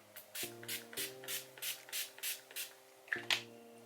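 A pump bottle of rose water and glycerin face mist sprays in short hissing bursts, about nine in a quick, even rhythm, close by and fairly soft.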